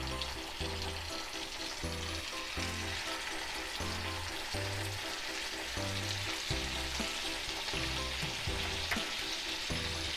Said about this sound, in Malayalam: നമുക്കിനി ഇതിലേക്ക് ചിക്കൻ പീസ് ഇട്ട് കൊടുക്കണം.